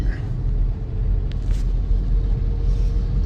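Steady low road rumble from inside a car driven through Coimbatore city traffic, with a faint hiss and brief higher whine midway, no clear talk.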